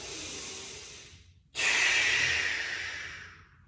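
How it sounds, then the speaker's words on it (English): A person takes a deep breath in, then after a short pause blows out forcefully, close and clear, as part of a stretching routine. "Take a deep breath. Blow out."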